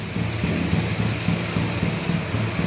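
Spices such as cumin, mustard, fenugreek and red chilli sizzle and crackle steadily in hot oil for amla pickle, a dense, continuous frying hiss with soft low popping close by, and no voices.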